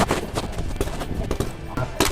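Sig Sauer rifles fire at a US Army demonstration day at an outdoor range, with sharp, loud shots in quick irregular succession and some rapid bursts, layered with echoing reports and background noise.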